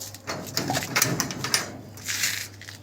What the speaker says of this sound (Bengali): ম্যাক্সিমাম সব বাজির পায়রা আছে উড়া পায়রাও আছে